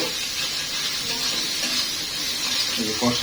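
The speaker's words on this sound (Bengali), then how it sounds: "আর এই যে আমি একটু কষাই নিব আর কি এখন এই যে একটু কষাই নিব" Chicken chaap sautéing in a pan with chili and turmeric, a steady close sizzle and hiss throughout, with a voice talking softly over it near the end.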